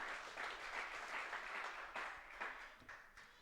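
Church congregation giving a round of applause during a sermon, a soft, distant wash of many hands clapping steadily for a few seconds, faint overall and fading toward the end.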